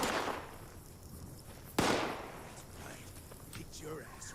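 Gunfire in Fallout 76, with a single sharp, loud shot cracking out over a quieter hiss of background game noise, with faint further activity after it.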